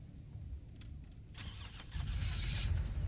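The same car model seen in Resident Evil 7 fails to start in the Resident Evil 3 Remake, a starter cranking and grinding that swells louder toward the end without catching.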